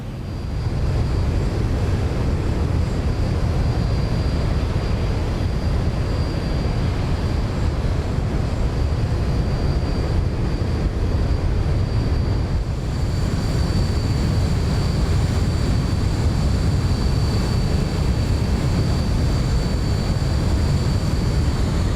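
A Boeing 737-800 landing replayed in the X-Plane 11 flight simulator, heard as a continuous broad engine roar with a faint high whine, loud and steady throughout with a slight change in texture partway through.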